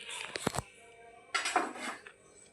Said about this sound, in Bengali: এই যে আমড়া দিয়ে রান্না করবো, তাহলে কেটে নিই।